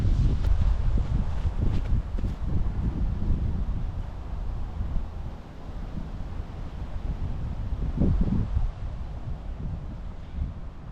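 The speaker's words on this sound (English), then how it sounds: "strong headwind." Strong wind blows across a disc golf course, buffeting the microphone in a continuous low roar with gusty surges, loud and close throughout.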